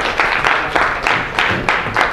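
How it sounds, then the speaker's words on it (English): Audience clapping in a lecture hall at a physics demonstration of Newton's laws with a small car, a dense burst of applause held steady for a couple of seconds with slight rhythmic swells. "Little applause for the car."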